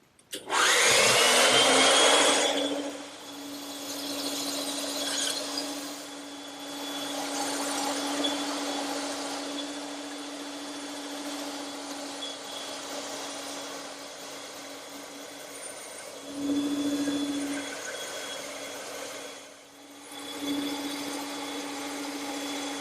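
A band saw runs steadily with a loud burst at the start, then a continuous whining hum while wood is fed through at 45 degrees in a cradle, with brief surges as the cut changes.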